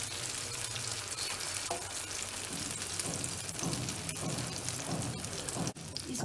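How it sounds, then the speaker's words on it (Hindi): An egg frying in about five to six tablespoons of oil, a dense continuous crackling sizzle, close and steady throughout with no talk. "ये हमने इसमें तकरीबन 5 से 6 टेबलस्पून हमने ऑयल डाला है और हम इसको फ्राई कर रहे हैं अंडे को"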